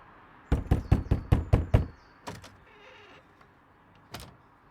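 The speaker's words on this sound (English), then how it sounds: "He stops at the door near the end, knocks." Seven sharp knocks on a door in quick, even succession, close and crisp, followed by a few softer thumps and a final single knock in an otherwise quiet room.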